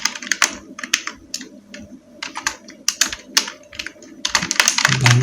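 Fingers type on a computer keyboard while entering text into an MS Word document, producing close, irregular bursts of key clicks with brief pauses and a denser flurry near the end.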